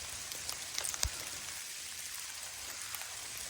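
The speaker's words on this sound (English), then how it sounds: "Freaking hailing on me now." Hail falls on a trail beside a creek in January, scattered pattering impacts on the ground and nearby surfaces, a few sharper nearby hits, mostly faint and steady.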